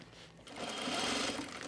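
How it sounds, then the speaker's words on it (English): A sewing machine stitches the shoulder and side seams of an Auburn Blazer from a Cashmerette pattern, its steady motor whir starting softly and then running faster and louder at close range, with no talking. "we are sewing our shoulders and side seams"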